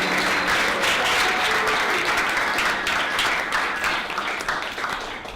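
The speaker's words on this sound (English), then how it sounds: "make a big round of applause for the Theater of Public Policy" A theatre audience gives a big, sustained round of applause for an improvised comedy troupe performing a public-policy show, a dense wash of many hands clapping throughout that tapers slightly toward the end.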